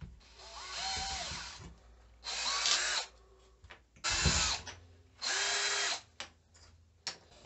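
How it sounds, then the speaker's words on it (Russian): A 7 mm bit drilling through a plastic bottle cap with a power drill, in three distinct high-pitched whirring bursts of about a second each separated by brief pauses and small handling clicks, close and alone. "делаем сквозное отверстие. В моем случае это сверлышко на 7."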